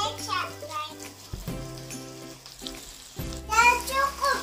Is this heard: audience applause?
no